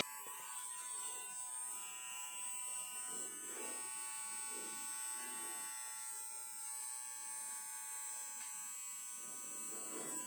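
A Philips 7000 series all-in-one electric trimmer buzzes steadily and continuously, close to the microphone, with a thin high-pitched motor whine and no talking.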